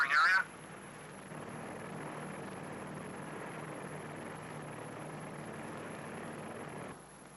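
Propeller drone of a P-2V patrol aircraft flying over a thermonuclear bomb test target area, a steady broad rumble holding evenly for several seconds after a brief louder opening, fairly distant and alone.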